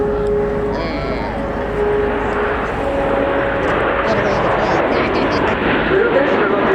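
Eight aircraft flying a formation roll at the RIAT airshow, heard as a continuous loud, broad roar of jet engines with someone talking over it.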